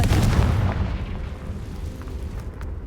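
Spell explosion in a Hogwarts video game, a heavy, booming blast at the start that rumbles and fades over a few seconds, with no speech.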